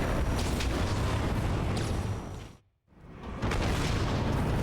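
A loud, sustained blast of explosion noise in the video game Halo 2: Anniversary, dense and roaring, cutting out briefly near the middle before resuming just as strongly.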